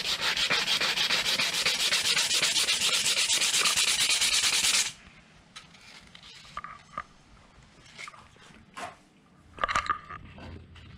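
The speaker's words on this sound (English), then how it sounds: "so now we're just sanding it down right now" Rapid, steady rasping of sandpaper rubbed by hand back and forth on a wooden card display, close and loud for several seconds, then stopping, followed by quiet handling noises.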